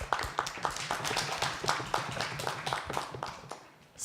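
Audience applause for two teams at a middle school English debate final, a steady patter of many hands clapping at moderate volume with irregular sharper claps, continuing for several seconds.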